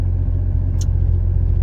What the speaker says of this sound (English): I'm in the car warming it up right now.